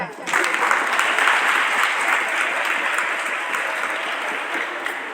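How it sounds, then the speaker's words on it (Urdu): An audience at a seminar on the poet Faiz Ahmad Faiz breaks into applause that starts abruptly, holds as dense, full clapping for several seconds, then slowly thins while continuing. "اپنے لیے آپ تالیاں بجائیں"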